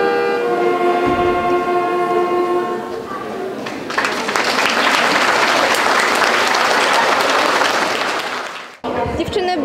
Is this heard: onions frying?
no